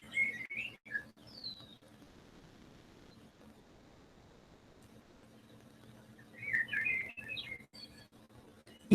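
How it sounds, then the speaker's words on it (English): Birds chirp in short, bright bursts at the start and again near the end, with quiet stretches between and no voices. "Even the birds are happy."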